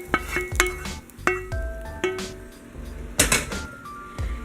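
A spoon stirs coconut curry fish stew in a pot on low heat, giving a series of clinks and scrapes against the metal pot at an uneven rhythm, fairly quiet and close with no voices.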